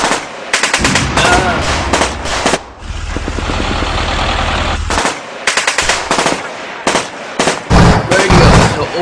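Heavy gunfire in the video game Army Men: Battle for the Backyard, with loud, dense bursts of machine-gun fire and shots that crackle in rapid clusters, separated by brief pauses and a sustained roar.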